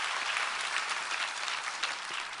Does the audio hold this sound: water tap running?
no